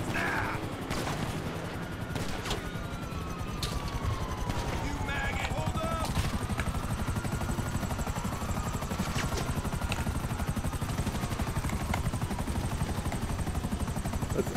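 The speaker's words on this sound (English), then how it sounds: "Let's outpace the chopper." Police helicopter chasing the player in GTA 5 Online, its rotor drone constant and loud beneath bursts of gunfire and whooshing game effects, a voice talking over the action.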